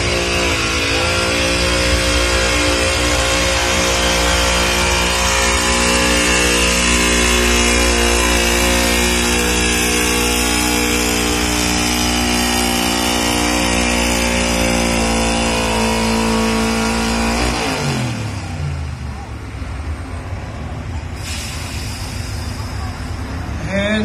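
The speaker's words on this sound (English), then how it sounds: "First truck is on the track right there, Russell Poltratz." Open stock pulling truck at a county fair truck pull in Lincoln County, engine roaring loud and steady on the track for about eighteen seconds, then the pitch drops and the revving eases off.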